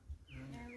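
A caged canary gives a short, faint chirp with a sliding whistled note and a steady tone, heard alone indoors.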